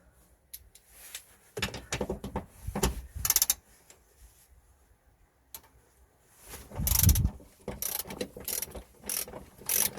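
A ratchet wrench clicks in short, uneven bursts with pauses between them while loosening 14mm nuts on the rear suspension of a Toyota Corolla that has a broken coil spring and a leaking shock absorber.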